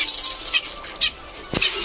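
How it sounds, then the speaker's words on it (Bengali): Several birds come down to feed, giving short bursts of fluttering wingbeats and soft pattering close by, with one sharper flap near the end. "দেখো সব পাখি নামবে এখন"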